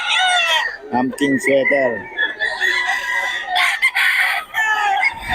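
Roosters crow repeatedly at a Bocaue chicken market, loud and close, overlapping with clucking, while someone talks briefly among the birds.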